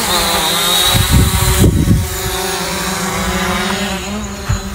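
A Hubsan Zino drone lifts off in auto takeoff, a loud steady whirring buzz of its propellers close by with a few brief louder surges as it rises.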